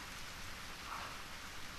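Steady rain falls in the visual novel DearDrops, a continuous even hiss with no voices and no distinct drops standing out.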